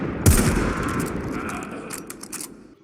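In the game Warframe, the Redeemer Prime gunblade fires a single loud, close blast with a booming tail that fades over a couple of seconds, with faint crackling afterward.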